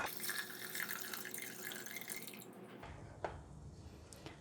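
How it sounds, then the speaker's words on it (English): Two cups of water pour from a container into a pot of rice in a home kitchen, a steady, close splashing trickle that thins out partway through, with a small clink near the end. "So we're going to put the water in."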